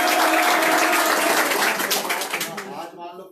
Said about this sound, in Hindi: सूर्य जी वास्ते तालियां